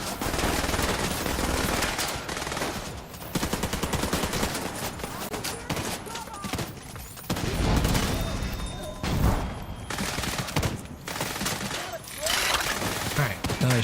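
Sustained automatic gunfire rattles in The Division 2 while an EMP device is shot at, loud and nearly unbroken, with heavy bursts and occasional booms layered through the fight.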